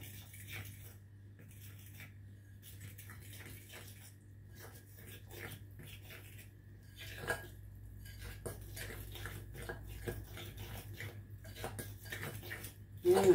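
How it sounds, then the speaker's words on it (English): Banana fritter batter with milk being mixed by hand in a bowl, giving a quick run of light spoon clinks and scraping against the dish that grows busier and louder toward the end, with no voices. "And your half a cup of milk, and you just mix that through."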